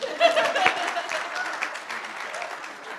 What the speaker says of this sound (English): One last round of applause for Kel.